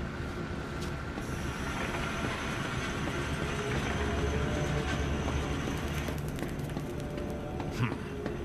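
A train rolls on rails inside the zoo of the horror game Zoochosis, a continuous rumbling with rhythmic clickety-clack and metallic squeals, steady and fairly loud throughout.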